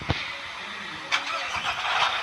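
A vehicle engine cranks and catches, with a couple of brief starter bursts followed by a steady mid-pitched running hum, close by and fairly loud.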